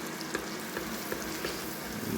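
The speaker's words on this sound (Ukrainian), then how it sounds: "Зараз посмажемо моркву, а потім вже будемо кидати бурячок." Carrots sizzle and crackle steadily in a hot frying pan for borscht, with occasional soft pops and light stirring, close and unbroken.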